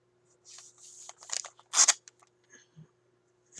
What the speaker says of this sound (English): scissors. You have your scissors.